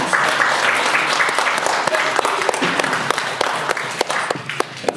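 An audience at a Black Power forum claps loudly and continuously for an introduced radio broadcaster, a dense close-up round of applause that fades gradually toward the end with a few sharper individual claps.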